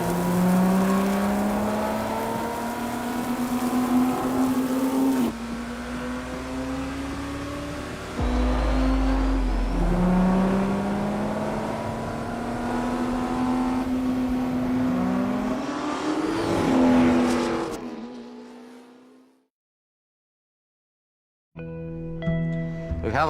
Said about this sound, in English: the microphones outside that have the passing bys of the car, the stopping, the starting, the doors, the ignition